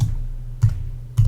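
A computer keyboard struck three times at steady intervals in a short burst of typing, each keystroke a brief click over a low background hum, with no speech.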